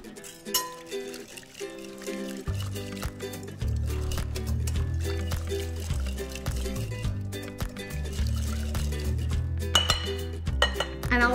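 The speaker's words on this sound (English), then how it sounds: "Let's just whisk this up." A tamari and tahini dressing is whisked in a bowl: quick, light clinks and taps of the whisk against the bowl, with a liquid swish, run under steady background music with deep bass notes.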